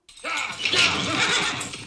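Horses whinny loudly in a western film, a drawn-out neigh rising over a busy background of hoofbeats and commotion, with faint voices mixed underneath.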